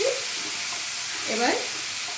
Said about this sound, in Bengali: মশলাটা কড়াইতে দিয়ে দিয়েছি